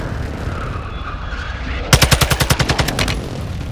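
A close air support strike in Call of Duty Warzone 2 opens up as a rapid burst of about a dozen loud, evenly spaced cannon shots that starts suddenly over a low battlefield rumble and then trails off.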